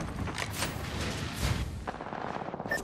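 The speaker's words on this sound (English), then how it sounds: "I am taking fire" Rapid gunfire in the Apex Legends battle royale, bursts of shots and booming impacts crowding together for nearly three seconds, loud and close, with no voices over it.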